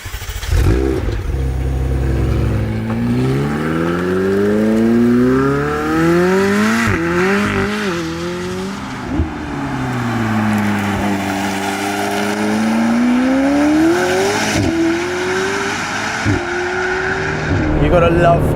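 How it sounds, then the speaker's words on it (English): McLaren 765LT Spider engine revving hard and accelerating through repeated gear changes, with rising and falling sweeps of loud, close exhaust and brief drops between shifts. A voice is heard talking faintly over it. "In order to hear what this car sounds like,"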